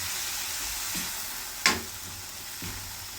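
Food stirred in a frying pan, a steady close sizzle with a few soft utensil scrapes and one sharper clack against the pan midway.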